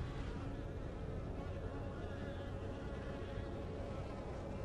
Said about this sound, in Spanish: La mierda de las moscas.